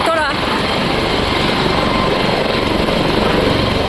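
A helicopter roars loudly and continuously with a dense, steady rotor and engine drone, close and unbroken throughout.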